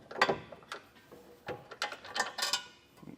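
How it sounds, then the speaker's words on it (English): A socket wrench ratcheting bolts loose on a 2024 Subaru Legacy during a trailer hitch install, with bursts of close metallic clicking and pawl chatter repeated in short irregular strokes. "just go back through with the socket, break them loose, and get them removed"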